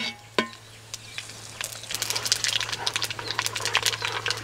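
Whole spices, among them cloves, bay leaves, cardamom, star anise, mace, cinnamon and shahi jeera, hiss and crackle in hot oil for a budget village-style pulao, a steady close sizzle with fine popping that swells after a single early clink.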